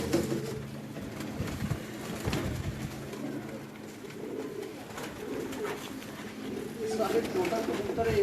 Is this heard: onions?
no